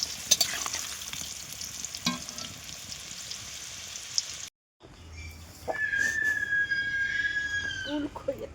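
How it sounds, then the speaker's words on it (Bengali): Potatoes frying in oil while being stirred, a moderate sizzle with scraping spatula strokes, a brief cut in the middle, then a louder hiss and a thin high squeal near the end. "এই দেখো হয়ে গেছে আলু ভাজা"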